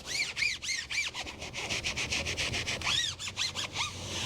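A Swisstrax foam rim mat scrubs a tire in rapid, rhythmic back-and-forth strokes, producing a squeaky rubbing sound that repeats steadily and loudly up close with no voices.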